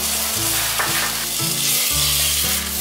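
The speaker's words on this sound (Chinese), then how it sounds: "冬瓜加进来略炒一下" Winter melon stir-fries loudly in a hot wok, a dense sizzle with rhythmic scraping strokes of the spatula roughly every half second, close up and with no voices.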